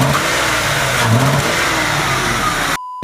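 Misfiring 4.6 modular V8 in a Ford Crown Victoria, a close engine run with an uneven, stumbling low throb, cut off abruptly near the end with no talk.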